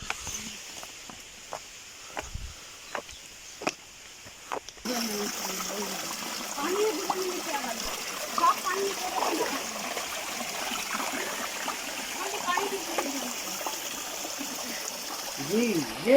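Water flows from a spring at a village in Barh, Kohat as a steady trickling stream, preceded by a few sharp footsteps or clicks and followed by someone speaking over the running water.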